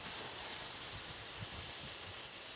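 A voice imitates a leaky tire by exhaling through the nose in one long, steady hiss that stays close and even from start to finish.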